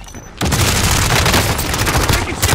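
Gunfire in Call of Duty: Warzone, a loud sustained burst of rapid automatic shots with booming impacts starting abruptly and continuing to the end, with game effects mixed in.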